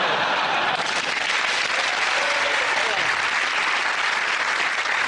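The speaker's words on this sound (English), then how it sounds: "Randomly, I say well done and people clap" A studio audience on a TV panel show bursts into sustained, dense applause on cue, steady and loud for several seconds with no pauses.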